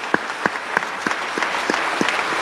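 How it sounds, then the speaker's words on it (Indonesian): A seated crowd at a sales seminar applauds, a dense close patter of clapping hands with several distinct louder claps in a loose rhythm, filling the short moment. "Tepuk tangan untuk istri saya dulu,"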